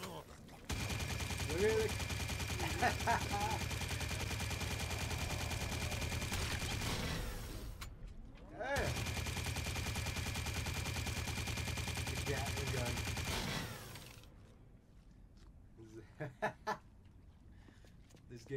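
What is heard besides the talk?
gunfire in video game Drawn to Death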